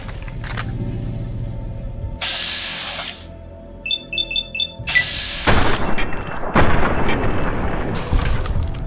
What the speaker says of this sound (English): Get a service rifle out and start shooting at that thing.